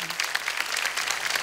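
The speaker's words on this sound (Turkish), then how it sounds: "Kocaman alkışlar lütfen bir kez daha." A concert audience at an arts evening bursts into dense, steady applause, loud and close, filling the whole short moment with clapping.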